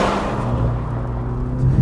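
A 2024 Mercedes-AMG C63 S hybrid four-cylinder engine accelerating flat out in race mode gives a steady, loud, low droning growl that swells slightly near the end.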